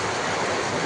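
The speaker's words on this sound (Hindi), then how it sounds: "ये बारिश हो रही" Rain falls steadily outdoors as a dense, even hiss with no pauses, moderately loud.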